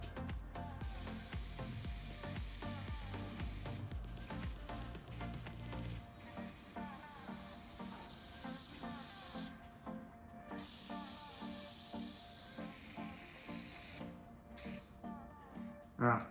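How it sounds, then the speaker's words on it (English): A spray can sprays the edges of carpet on truck bed drawers in steady hissing bursts, close and continuous, with short pauses between passes. "I'm just going to give the edge and the bottom edge just a little bit more."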